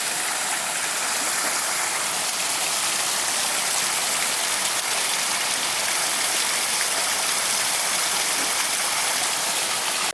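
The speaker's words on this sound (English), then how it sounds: "Always a sucker for more falling water shots." Falling water at the Museum of Ethnology in Hanoi: a steady, loud, hissing splash that holds without a break, with no talking.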